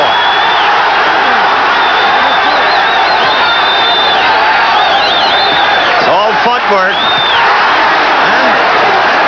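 Boxing crowd cheering loudly and continuously near the end of round four in the Sammy Serrano vs Julio Valdez bout, a dense roar with whistles and shouts rising throughout.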